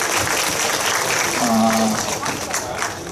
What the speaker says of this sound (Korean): 나 이런 박수 가지고 공연 안 하는데.